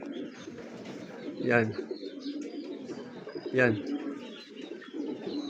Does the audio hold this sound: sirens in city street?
no